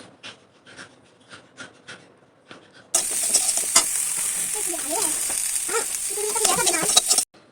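Chopped carrots drop into a hot wok (kadai) of frying vegetables for fried rice, setting off a loud, steady sizzle with stirring scrapes that lasts several seconds, after a few quieter kitchen clicks.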